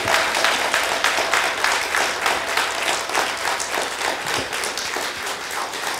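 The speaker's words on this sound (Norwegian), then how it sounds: "Kan vi gi dem en stor applaus?" A church congregation bursts into loud, sustained applause, many hands clapping densely and evenly for several seconds before the sound thins slightly toward the end.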